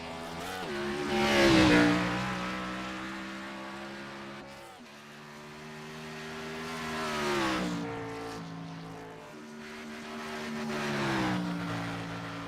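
The number 88 Rowdy Motorsports Chevrolet stock car on a qualifying hot lap at virtual Dover in iRacing, its engine howling up and down through the gears, swelling and fading across three passes.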